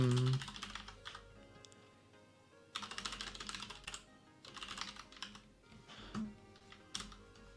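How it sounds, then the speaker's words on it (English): Rapid typing on a computer keyboard at a desk during a coding session, clicking keys in uneven bursts with short pauses, fairly close and moderately loud, with faint background voice. "If I can type on a keyboard"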